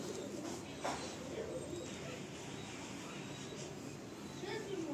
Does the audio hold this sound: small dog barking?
no